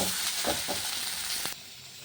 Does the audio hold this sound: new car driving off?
no